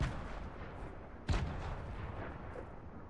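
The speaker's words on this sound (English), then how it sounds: "I'm chucking nades." A thrown grenade exploding in a squad-based video game, one sharp blast standing out from dense, rumbling battle noise with further distant booms behind it.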